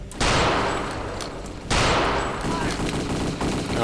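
Gunfire in a shooter video game: two sharp bursts of rapid shots, loud and close, each followed by a ringing tail. Further shooting carries on faintly beneath.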